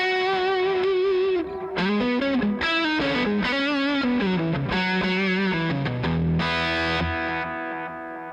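Electric guitar solo played on a Goldtop through a Fender Deluxe Reverb amp with a little delay and reverb, giving sustained bent notes and quick melodic runs with a trailing echo, loud and steady, no voices.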